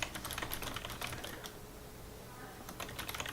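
Typing on a new mechanical keyboard: quick bursts of crisp key clicks, a brief pause in the middle, then more rapid keystrokes, close and moderately quiet.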